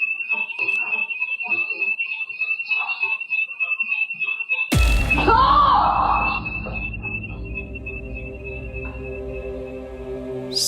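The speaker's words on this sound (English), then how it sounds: "Something sets off the alarm" A house alarm beeps steadily at a high pitch over quiet background, then a sudden loud bang or impact cuts in with a brief rumbling, ringing aftermath while the alarm tone keeps sounding.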